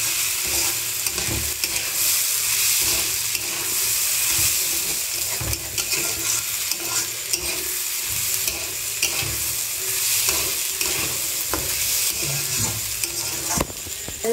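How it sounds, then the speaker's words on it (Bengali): Rice is stirred in a kadai over low heat with already fried cashews and raisins, giving continuous close scraping and clatter over a soft, even sizzle. "হালকা আঁচে কিছুক্ষণ নাড়াচাড়া করে নেব"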